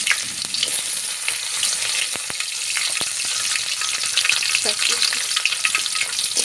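Cumin seeds with chopped onion and garlic fry in hot oil for a village-style chicken curry, a steady close sizzle with occasional scrapes and clinks of a spoon as the mixture is stirred.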